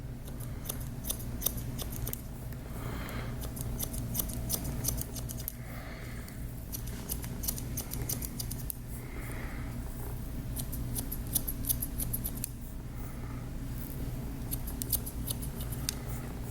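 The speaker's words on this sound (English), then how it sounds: "I'm gonna take my shears, lay them on the spine of my comb" Barber shears snip rapidly over the spine of a comb during a textured haircut, a close run of crisp metallic cuts in quick clusters, with short pauses between passes and no talk.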